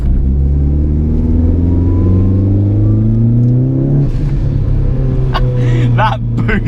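A 240 bhp turbocharged Renault Clio 172 accelerates hard, its engine note climbing steadily through the revs before easing off, then building again with loud, close rasping and boost sounds.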